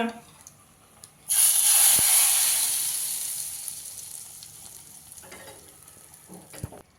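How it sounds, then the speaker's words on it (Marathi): Hot tadka is poured onto cooked dal, setting off a loud, abrupt sizzling hiss that slowly fades over several seconds, followed by faint clinks of utensils. "आता याच्यावर तडका घालूया"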